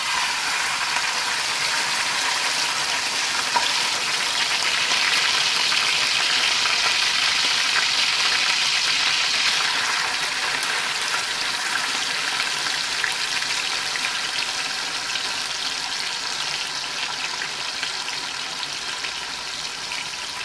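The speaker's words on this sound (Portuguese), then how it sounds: "E o meu óleo já tá quente e eu vou colocar aqui os bifes" Beef liver steaks frying in hot oil in a frying pan, a steady, loud broadband sizzle that hisses continuously without pause, close up and with no talking.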